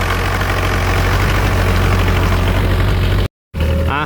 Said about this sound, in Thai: เดี๋ยวเรามาเบิ่งลีลาการไถนาของรถไถคันนี้อีกทีนึง